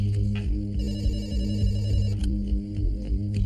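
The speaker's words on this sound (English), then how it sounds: "a late-night phone call wakes Dr. Bandari" An old-style telephone bell ringing late at night, a loud close trilling ring repeating over a low steady hum.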